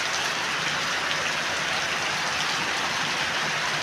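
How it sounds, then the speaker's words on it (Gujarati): Heavy rain pouring down in Lilapur village near Halvad, a constant dense hiss of falling water, steady and unbroken with no voices. "વરસાદ લગભગ પંદર મિનિટ જેવો થઈ ગયો છે ચાલુ છે વરસાદ"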